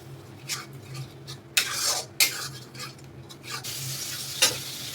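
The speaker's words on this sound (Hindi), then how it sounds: "देखिए यहाँ पे मेरा कैप्सिकम और मशरूम फ्राई हो रहा है।" Capsicum and mushroom fry in a kadhai with a gentle background sizzle, punctuated by several sharp scraping stir strokes and clinks of a spatula against the metal, with no talking.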